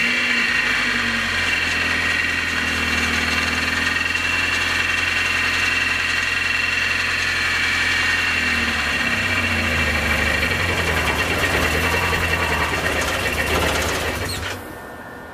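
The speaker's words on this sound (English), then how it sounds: "It's kind of idling fine now" A Nissan 240SX with a freshly installed engine runs at a steady idle throughout, a close, continuous hum with a slightly rough, knocking texture, ending with a brief drop as the engine settles.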